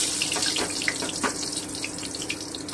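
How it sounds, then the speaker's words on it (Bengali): Pointed gourd (potol) pieces frying in hot oil over medium heat give a steady, close sizzle with scattered small pops and crackles, with no talking. "এই যে আমার তেল গরম হয়ে গেল। এবারে আমি আঁচটা একটু মাঝারি করে দিচ্ছি, দিয়ে আমি পটলগুলোকে ভেজে নিচ্ছি।"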